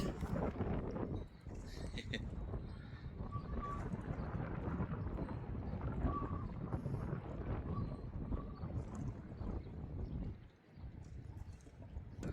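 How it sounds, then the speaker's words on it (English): Wind buffeting the microphone while sea fishing at Plymouth, a loud continuous low rumble that gusts and dips, with a faint voice now and then. "as you can probably hear, the wind's making it really a bit difficult for spotting bites and things"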